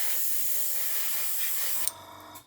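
An airbrush sprays thinned acrylic paint in a steady close hiss that runs unbroken for nearly two seconds before cutting off abruptly, followed by brief faint clicks.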